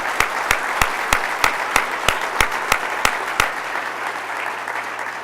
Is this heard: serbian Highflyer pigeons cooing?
no